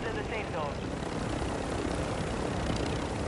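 Helicopters in the Call of Duty Warzone video game: a continuous loud rotor and engine roar with steady whirring throughout, with speech faintly underneath.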